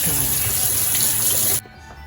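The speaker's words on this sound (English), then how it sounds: "She's washing her hands." A kitchen tap runs at full flow over a sink as hands are washed, a loud, close, steady rush that cuts off abruptly near the end, leaving quieter room sound.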